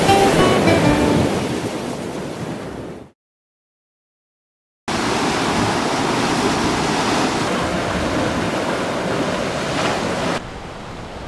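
Ocean waves surge and wash continuously below the mountain cliffs along the coastal path between Manarola and Corniglia in Cinque Terre, Italy, with wind rumbling on the microphone; a brief silent gap breaks the steady roar.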